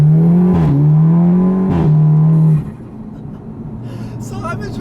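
A 2009 Audi TTS with an APR Stage 2 tune, driven on back roads, drones with a loud, steady engine note that shifts pitch twice, then suddenly drops to a quieter, rougher rumble.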